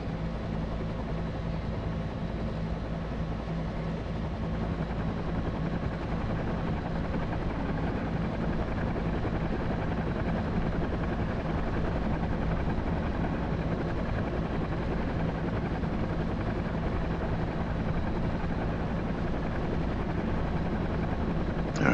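A UH-1H Huey helicopter flies in the DCS combat flight simulator, its steady rotor thump and turbine roar droning continuously and evenly throughout, with no talking.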